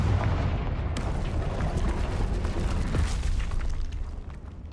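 Confringo fire spell blasting in the video game Hogwarts Legacy: a dense, rumbling explosive burst with crackling debris that holds loud and steady before fading slightly at the end, with no voices.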